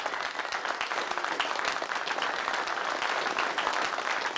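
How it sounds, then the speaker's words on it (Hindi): A church congregation applauds at a fairly low, distant level, a steady patter of many hands clapping for several seconds with no speech over it. "हाँ, आज दोपहर को आपकी ताली कुछ कमजोर हो रही है।"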